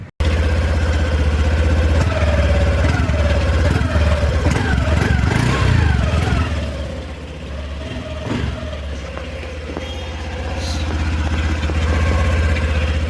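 A 2025 Honda Activa 110 scooter with a 110 cc engine idles close by with a steady low hum, the note dipping briefly midway and then settling back to an even idle.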